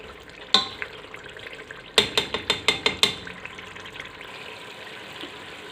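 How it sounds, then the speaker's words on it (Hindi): Mutton chunks stir-fried in a pan for a curry with ridge gourd, giving a sharp scrape at the start, then a quick run of about six spatula knocks and scrapes, settling into a quiet sizzle. "पाँच से 6 मिनट के लिए इसको भून लेंगे।"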